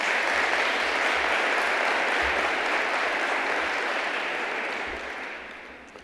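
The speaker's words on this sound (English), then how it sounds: "Can we give her another thunderous round of applause?" Thunderous round of applause from a conference audience at a ministerial summit, dense steady clapping that holds strong for about five seconds before beginning to fade.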